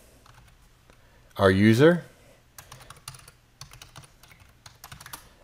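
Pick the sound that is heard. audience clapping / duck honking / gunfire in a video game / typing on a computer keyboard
typing on a computer keyboard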